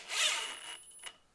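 DeWalt DCF870 hydraulic impact driver in speed 1 precision drive, a brief, fairly quiet whirring burst that tapers off and then stops.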